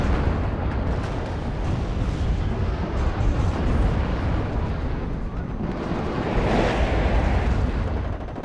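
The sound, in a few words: Nona 120 mm artillery fire and explosions in the video game Warno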